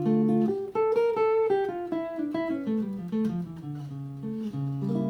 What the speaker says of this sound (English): I might just keep playing D harmonic minor.